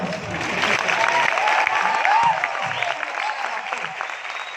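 A crowd claps continuously in dense, steady applause during a speech, loud and close, with a few voices cheering faintly underneath.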